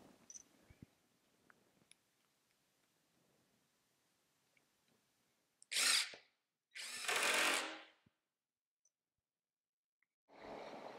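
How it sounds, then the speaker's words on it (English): A power drill driving screws into a wooden storage frame, three short whirring bursts after a long quiet stretch with faint knocks, close and with no talking. "And then we'll go ahead and set these screws into place."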